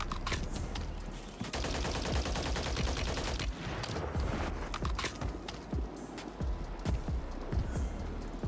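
RAM-9 submachine gun fire in Warzone, rapid bursts of shots cracking over busy battle noise, with a dense sustained volley in the middle and scattered sharp reports afterward.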